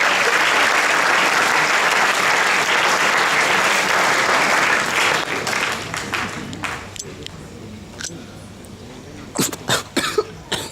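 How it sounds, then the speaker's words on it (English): Audience applause for an award presenter taking the stage at a boys' school Shakespeare competition awards ceremony, a dense sustained clapping that thins after about five seconds into scattered claps and a few coughs. "Everybody, a round of applause to Mr. Vijit Pires"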